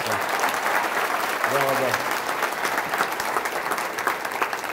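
A crowd at a rabbi's Elul conference in Netanya claps steadily and loudly for the whole stretch, with a man's short spoken thanks rising over the applause near the start.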